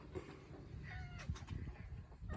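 A mother cat meows a few times, faint and somewhat distant, over a low background rumble.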